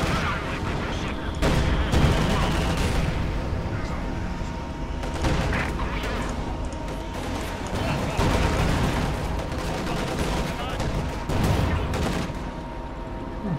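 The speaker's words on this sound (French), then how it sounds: "Je vais avancer un petit peu mon Howitzer et je vais faire des tirs sur ces paquets." Howitzer artillery and other gunfire in the video game Company of Heroes 2 make a dense, loud battle din of repeated booming blasts and crackling shots layered over a constant rumble.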